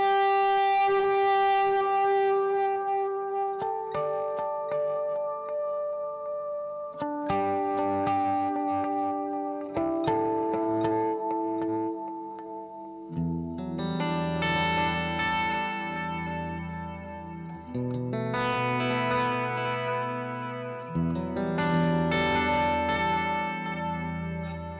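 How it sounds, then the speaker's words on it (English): A Fulltone tape echo unit repeats guitar notes with slight tape flutter, sustained chords and single notes trailing into wavering, distorted echoes that build and overlap, loud and continuous without talk. "So what we hear with the Fulltone is a little bit of the tape flutter."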